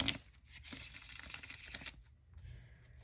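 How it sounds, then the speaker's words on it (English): Playing cards are shuffled up close by hand, a soft papery riffle and flutter that runs for a few seconds before fading to lighter rustling. "the spectator can shuffle the cards"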